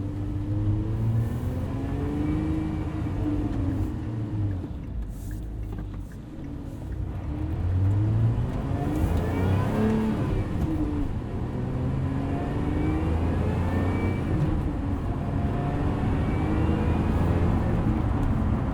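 A 2024 Lotus Emira with a 6-speed manual runs in tour mode while driving, its engine a steady low drone with rising and falling harmonics as throttle changes, continuous and fairly loud from inside the cabin.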